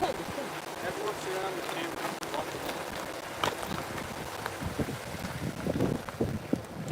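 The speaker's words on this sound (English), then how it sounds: "the wind is terrible" Strong gusty wind buffets the microphone at trackside along Norfolk Southern's C&O main line in Oakdale, Tennessee, a continuous rumbling roar with scattered knocks and a voice talking through it.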